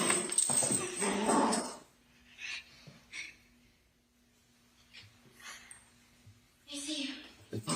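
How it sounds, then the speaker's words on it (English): A cute puppy in a played home video whimpers and yips faintly in short scattered bursts, with a person's voice talking over it at the start and a steady low hum in the background. "Another puppy video."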